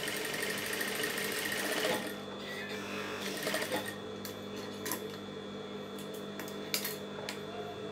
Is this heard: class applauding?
no